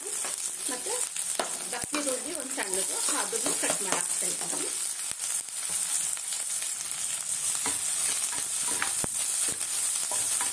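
Small sambar onions (shallots) frying in hot oil for chicken curry, a loud steady sizzle with scraping stirs throughout and no voices.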